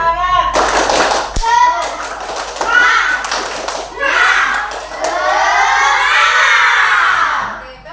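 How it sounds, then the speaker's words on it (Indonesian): Children in a classroom perform a rhythmic clapping chant, bursts of claps alternating with chanted voices, loud and close, with a sharp thump early on. "Tepuk semangat."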